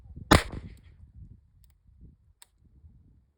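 A Chiappa Rhino revolver chambered in 9mm gives one sharp, loud crack near the start, followed by faint handling clicks and near quiet.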